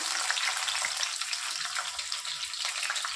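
Green chillies and onions hiss in hot oil, a steady bright sizzle that holds at an even level throughout with no voices over it.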